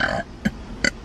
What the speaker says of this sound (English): A good burp in the morning really gets you going.